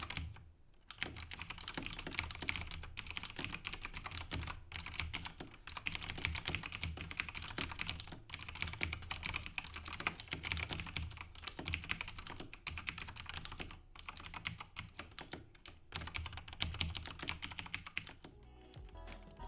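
Continuous fast typing on a Razer BlackWidow Chroma V2 mechanical keyboard, dense clacky keystrokes running steadily close up with brief pauses, no voices.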